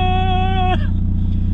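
MR2 fitted with a remapped 1.9 TDI PD diesel engine accelerating, a strong rising harmonic whine that cuts off sharply at a gear change, over a steady low rumble.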